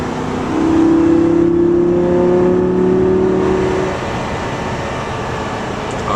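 A Lamborghini Gallardo Balboni's engine pulls hard in a loud, rising rev that holds for a few seconds and then eases back to a lower steady drone, heard from inside the car with no talking.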